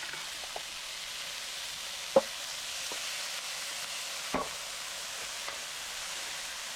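Frozen peas go into a hot frying pan and get stirred, giving a soft, steady sizzle with a few scraping clicks of the utensil against the pan.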